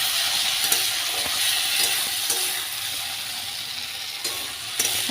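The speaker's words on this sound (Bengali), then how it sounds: "তেলের তো ভালো করে ভাজা হয়ে গেছে আলু দিয়ে একটু মশলার সাথে ভালো করে নাড়াচাড়া করে নিতে" Potatoes fry in hot oil with spices while being stirred, a steady close sizzle and hiss broken by a few clinks of the spoon against the pan.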